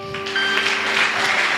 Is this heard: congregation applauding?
yes